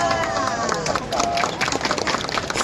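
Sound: audience applause for chef

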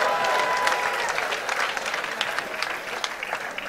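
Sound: audience clapping their hands

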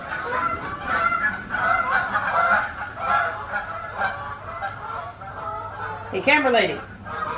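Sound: geese honking

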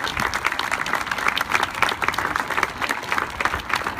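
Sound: audience applause at signing ceremony

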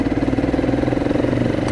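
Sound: motorcycle passing on the road

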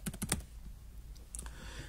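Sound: typing a file name on a computer keyboard

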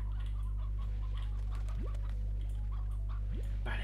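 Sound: chickens clucking in the video game Slime Rancher

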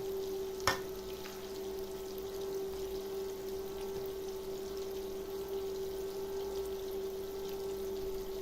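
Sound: cutlets frying in a pan

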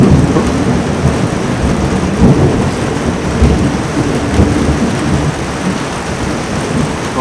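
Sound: thunderstorm over the sea

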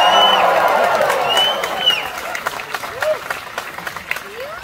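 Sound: audience cheering

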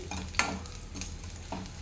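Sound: green chillies frying in oil

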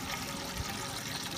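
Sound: clean tap water flowing into brewing system

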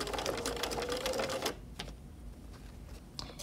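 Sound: sewing machine stitching a curved seam in fabric

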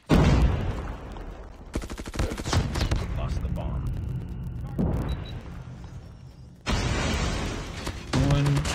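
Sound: gunfire in video game Call of Duty Mobile

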